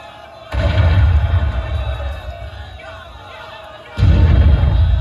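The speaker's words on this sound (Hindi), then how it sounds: "तोप रानी पर चलाओ।" Cannon fire effects boom during an outdoor stage play about a queen's battle: two heavy, loud low blasts, each followed by a sustained rumbling roar, with a crowd murmuring around them.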